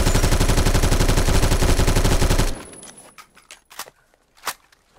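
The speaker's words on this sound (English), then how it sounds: "They finally fixed the weird sounds of the Colt, I mean, of the AR-15s and AK-12s." Rapid automatic gunfire from AR-15 and AK-12 rifles in the Phantom Forces game, a dense loud burst for about two and a half seconds, then cut off, followed by a few scattered sharp shots and clicks fading into quieter background.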